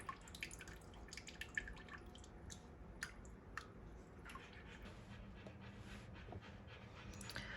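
Water draining and dripping from a papermaking mould full of recycled paper pulp, a steady patter of small drips and trickles that goes on without pause, close by and fairly soft, with no voices.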